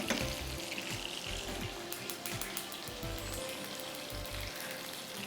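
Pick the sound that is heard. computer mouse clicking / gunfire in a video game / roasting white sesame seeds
roasting white sesame seeds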